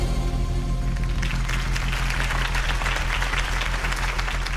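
Loud, dense applause from a large crowd in a video game, steady and sustained throughout, with a faint low hum underneath.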